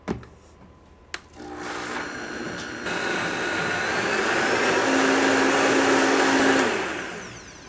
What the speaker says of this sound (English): Go ahead and puree the soup until smooth.